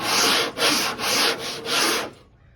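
A long sanding block with 40 grit sandpaper scrapes back and forth across a truck body panel in four steady, loud rasping strokes before stopping.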